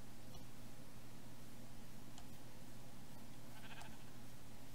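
Sheep bleat faintly now and then in a Minecraft prairie world, brief soft cries over a steady low game hum.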